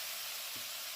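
Spice paste with cashew and paneer hitting hot oil in a pan, giving a steady, close sizzling hiss with a faint stir near the middle.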